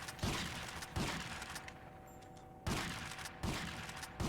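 Gunfire aimed at targets in GTA: Vice City Stories, with several loud sharp shots spaced about a second apart over steady game background noise and no talking.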